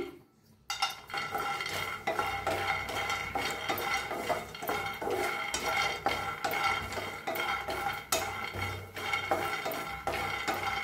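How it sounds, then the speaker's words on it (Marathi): Grated coconut, onion, peanuts and sesame seeds are dry-roasted in a pan, a spatula scraping and rattling through them in a continuous close stirring rhythm with little sizzle. "हे खोबरं आणि शेंगदाणे भाजायला आलाय"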